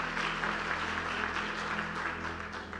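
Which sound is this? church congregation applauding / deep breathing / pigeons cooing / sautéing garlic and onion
church congregation applauding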